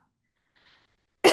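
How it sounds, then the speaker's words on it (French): After near silence and a faint breath, a single sharp, close cough bursts out at the very end. "J'ai toussé en même temps"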